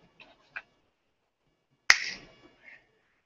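A hypnotist's single sharp finger snap rings out close and crisp, preceded by a couple of faint soft ticks and followed by a brief quiet tail, otherwise near silence.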